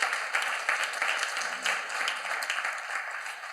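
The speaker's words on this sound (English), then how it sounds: "Let's give these brothers another round of applause." Audience at a men's empowerment summit applauding, a dense, even wash of clapping from a crowd lasting a few seconds at moderate level.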